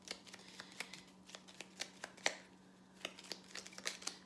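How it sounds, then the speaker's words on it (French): A card is drawn from an oracle card deck, with a quick series of soft riffling, flicking clicks close by and quiet, with no voices. "je vais piger une autre carte encore parce que je veux au moins une troisième carte"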